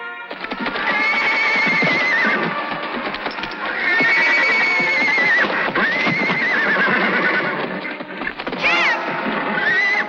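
A horse neighs loudly and repeatedly, shrill whinnies rising and falling close by, with a final sharp whinny near the end.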